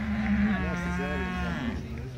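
A Charolais cow moos at an agricultural show in Suffolk, giving one long, loud, close bellow that rises in pitch and then trails off over faint background murmur.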